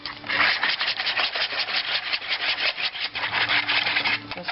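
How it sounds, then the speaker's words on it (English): Quiche egg mixture whisked with salt in a bowl for a spinach and mushroom quiche, fast rhythmic scraping strokes repeating evenly and close throughout. "Whisk that together."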